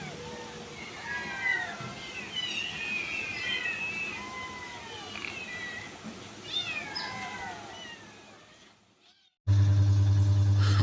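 A rescued kitten, found paralysed at a market rubbish dump, meows repeatedly in short high cries close by, with voices talking in the background; the sound cuts off near the end into a loud steady hum.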